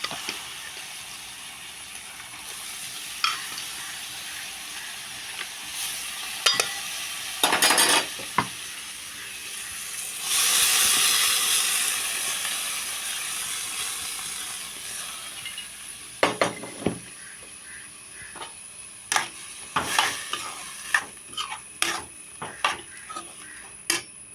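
Horse gram frying in a pan with chili powder: intermittent sizzling with stirring and utensil scrapes and clinks, a louder hiss burst midway, then sharp scraping taps against the pan, close and without talk.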